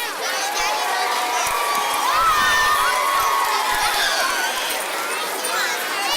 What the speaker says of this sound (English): another round of applause for Wood Elementary